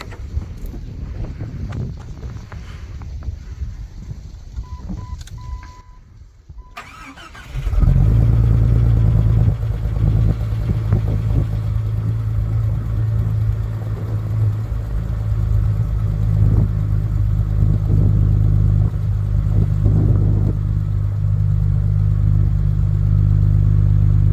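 A 1998 Jeep TJ with the 2.5-liter four-cylinder engine cold-starts after a few seconds of quiet outdoor wind. It catches abruptly and settles into a loud, steady, low idle that runs on without a break.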